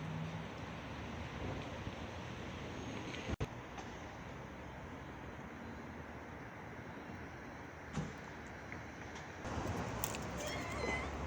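A mother cat makes a few brief, faint vocalizations against a steady outdoor hiss of wind in a garden, with a sharp click partway through.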